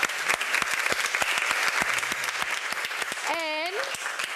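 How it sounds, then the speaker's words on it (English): An audience applauds a round table panel on coding at a congress venue, the Fira Congress Palau: dense, steady clapping runs throughout, with a brief rising whistle-like tone near the end. "Let's give an amazing applause to this round table"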